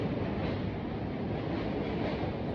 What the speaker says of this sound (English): So there's also a subway below me.